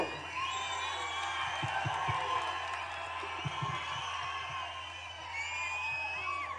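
A large crowd at an outdoor BRS political rally in Warangal whoops and cheers in a continuous roar, with scattered shouts and whistles rising and falling across the distant, dense mass of voices.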